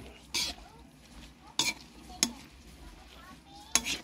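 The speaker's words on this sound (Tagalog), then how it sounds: "Tapos halo-haluin natin mga lods." Spoon stirring sardine and pechay soup in a pot of hot water, a few sharp clinks against the metal spaced across a few seconds over a quiet background.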